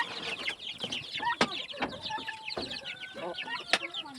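Chickens cluck and chatter at feeding time, several birds calling close by in quick overlapping bursts, with scattered sharp peck-like taps.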